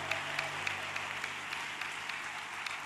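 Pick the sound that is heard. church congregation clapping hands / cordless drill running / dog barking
church congregation clapping hands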